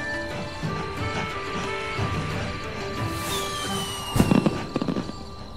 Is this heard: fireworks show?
yes